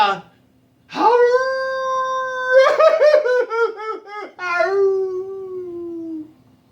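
A single voice imitates a big hound dog with long floppy ears baying and crying, in a campfire story: long wavering howls rising and falling, one with a pulsing, sobbing middle, close and fairly loud.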